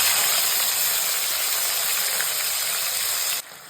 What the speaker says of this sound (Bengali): তো এরপর আমি টমেটোটা দিয়ে দিই।